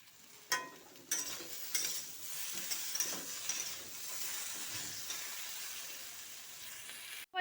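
Tomatoes tipped into a pan of sizzling pointed gourd and potato curry: a few sharp clatters early on, then a soft, steady frying hiss, quiet and close, with no talking.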